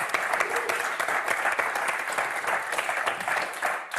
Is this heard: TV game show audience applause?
yes